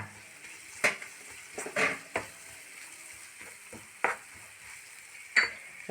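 A pan of ground bird's-eye chili paste sizzles steadily while a spoon scrapes and knocks against it several times at irregular intervals.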